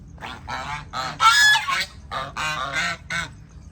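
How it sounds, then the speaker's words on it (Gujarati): Several loud honking calls from ducks, close by and in an uneven series of bursts with short gaps, no talking. "બતક જુઓ"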